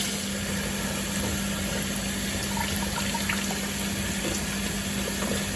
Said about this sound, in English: I have decent well water, so I can go straight from the tap.